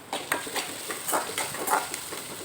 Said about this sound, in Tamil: ஆட் பண்ணிவிட்டு நல்லா வதக்கி விட்டுருங்க